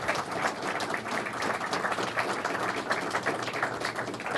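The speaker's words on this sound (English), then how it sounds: "Let's have a big round of applause for Nino, Russo, and Gargiulo's." Moderate, continuous applause from a gathered crowd at a public tourism event, an even patter of many hands clapping for several seconds with no speech over it.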